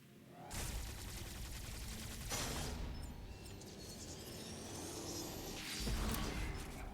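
Rapid weapon fire from Samus's arm cannon in Metroid Dread, a dense continuous burst of shots with whooshing effects running throughout, loud and close, with a brief pause midway before the firing swells again.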